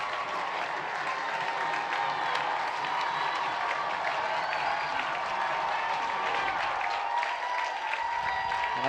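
Steady, dense roar of a crowd cheering and clapping in the stands at a high school football game between North Mason and Shelton, loud and sustained without pause for the whole stretch.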